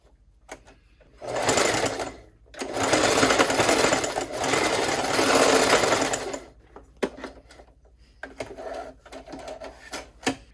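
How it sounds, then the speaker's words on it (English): A sewing machine stitches one line down a fabric scrunchie at a short stitch length, running in two steady, fast-whirring bursts, close and loud, followed by a few small clicks and handling noises. "we're going to take it over to the sewing machine and we are just going to sew one line down"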